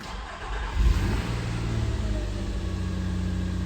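A Nissan Xterra engine with a misfire cranks and catches, then settles into a steady, rumbling idle close by, with no talking.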